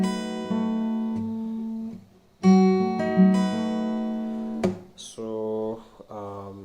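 Acoustic guitar playing a section of a song: sustained strummed chords, a pause, more ringing chords, then shorter plucked notes at the end, close and clear with no talking.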